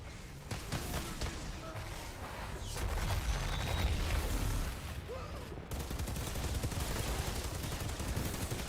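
Gunfire in a video game fight using a pistol, dense crackling shots and impacts continuing throughout over loud game noise and effects.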